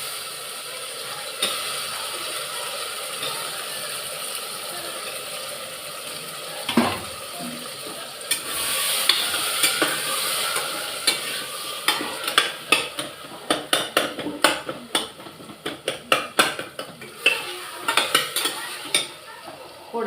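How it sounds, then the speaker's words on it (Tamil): Cut brinjal, beans and drumstick are sautéed in a pan, with a soft sizzle beneath scraping stirs and metal clinks that grow busier and louder through the second half. "நல்லா வதங்கிட்டு கட் பண்ணி வச்சுருந்த கத்திரிக்காய், பீன்ஸ், முருங்கைக்காய்"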